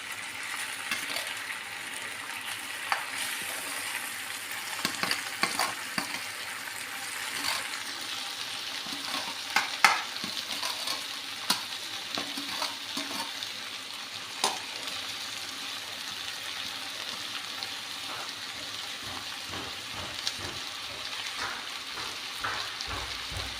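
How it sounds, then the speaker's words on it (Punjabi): Boiled rice is stirred and fried in a kadai, giving a soft continuous sizzle broken by light scraping and clinking from the spoon against the pan, with no talking. "ਹੁਣ ਆਪਾਂ ਕੜਾਹੀ ਦੇ ਵਿੱਚ ਚੌਲ ਪਾਵਾਂਗੇ ਜੀ"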